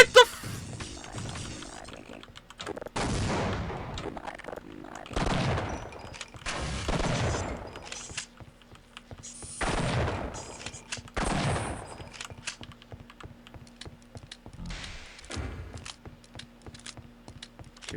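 Grenade blasts and gunfire in the first-person shooter Half-Life: Opposing Force, with several loud broadband bursts rising and decaying in rough succession over a low steady hum, and no talking.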